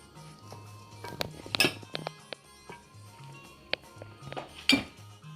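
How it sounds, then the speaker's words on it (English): Salad ingredients being mixed in a bowl, with a soft low hum beneath scattered clinks, taps and scrapes of utensils against the dish, some sharper knocks standing out, close and fairly quiet. "So I just want to start by mixing into this bowl like so."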